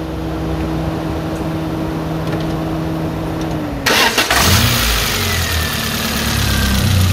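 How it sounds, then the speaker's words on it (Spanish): Under a steady background hum, a Peugeot 206 engine with an overheating problem from a clogged radiator cranks and catches with a sharp burst, then settles into a close, rumbling idle. "Arrancamos de nuevo y volvemos a calentar"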